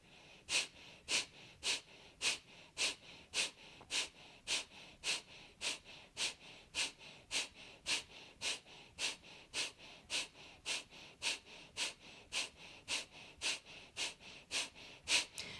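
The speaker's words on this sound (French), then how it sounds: "Une expire, on laisse le ventre se vider." Rapid rhythmic yoga breathing exercise, forceful exhalations through the nose repeated about twice a second in an even pulse for the whole stretch, close and clear with nothing else.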